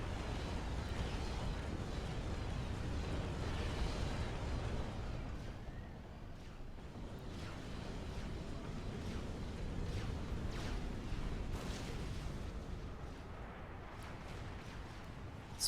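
Heavy Spearhead T3 artillery fire in Supreme Commander: Forged Alliance, a dense continuous rumble of booming shots and blasts that stays loud throughout, easing slightly partway through.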